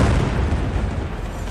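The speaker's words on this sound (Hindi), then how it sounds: "बेरूत में यह धमाका तब हुआ" A bomb explosion in Beirut, a loud heavy booming rumble that fills the short moment and stays dense and sustained rather than fading.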